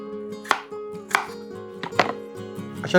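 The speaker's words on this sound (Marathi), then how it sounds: "आता आपण ही ॲपल्स इकडे चिरून घेऊया" Apples chopped into cubes on a board, four firm knife chops spaced about half a second apart, close and distinct over a faint background hum.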